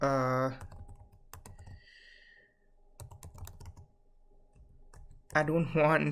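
Someone types a username and password on a computer keyboard in short bursts of close, crisp key clicks with pauses between them, and a voice talks at the start and end.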